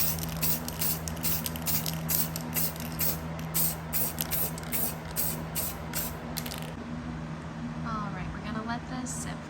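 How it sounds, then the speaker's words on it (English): Matte spray paint hissing from a can in short repeated bursts onto the page edges of a book through a stencil, close and steady, over a constant low hum. "When we spray, we're going to do short bursts."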